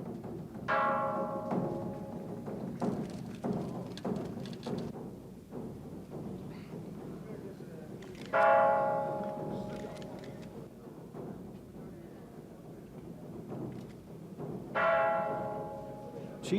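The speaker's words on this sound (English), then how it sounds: "They banged the temple bells and drums for the Queen." Temple bells struck during a royal visit in China, three separate ringing strikes spaced several seconds apart, each decaying slowly over a murmur of background voices and crowd noise.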